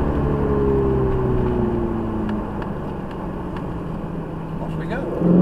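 A Ferrari 488 pulls away around the Mallory Park circuit, its engine droning loudly at first and then easing off. A voice talks over it.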